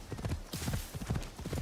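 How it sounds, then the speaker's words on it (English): Horse hooves galloping uphill in Assassin's Creed Shadows, a quick, steady rhythm of close, loud clip-clop beats running throughout. "Let's hope this horse can make it up the hill."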